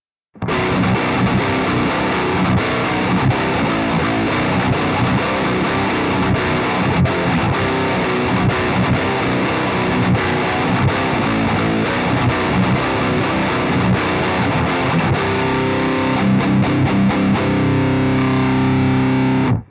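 Electric guitar through a Revv G3 or G4 preamp pedal plays continuously with a thick, distorted, saturated tone and bright edge, chords and riffs ringing steadily without pause.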